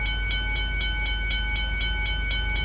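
A train crosses a level crossing in the Bus Simulator video game, with rhythmic, evenly spaced wheel clatter over a low rumble and faint steady tones from the crossing signal.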